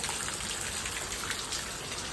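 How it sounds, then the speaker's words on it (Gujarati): Heavy rain pours down in a village, a steady, loud, dense hiss of drops on surfaces that holds evenly through the whole stretch with no voices. "વરસાદ આવી ગયો છે જોરદાર"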